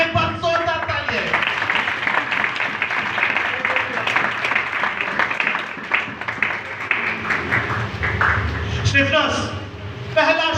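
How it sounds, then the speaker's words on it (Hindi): Loud applause fills a church gathering, a dense, sustained wash of clapping under a speaker's voice that carries on for several seconds. "जिंदा खुदा के स्टिफनेस के लिए बात जोरदार तालियां"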